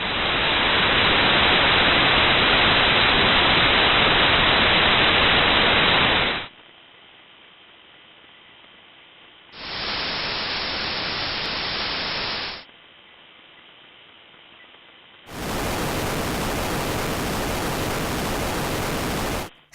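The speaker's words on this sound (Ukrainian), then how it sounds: "шум свідчить про випромінювання від екрану" Loud hissing static from a monitor screen's radiation picked up by a measuring device, in long bursts, alternating with a quieter steady hum; three distinct blasts of broadband noise, the last brightest and harshest.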